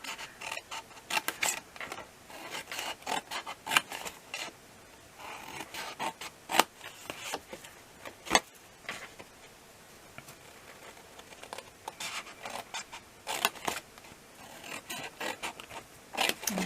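Scissors snipping through cardstock while a gift box is made, with repeated short cuts and rasping, rustling strokes at an irregular pace, close up and without talk.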